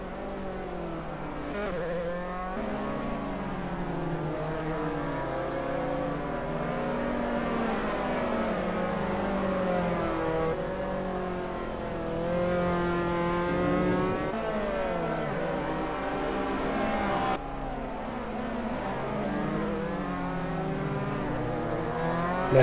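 SimF3 race cars accelerate around Norisring in Assetto Corsa, engines whining upward through repeated gear shifts, with several cars overlapping in a steady, moderately loud stream and no speech.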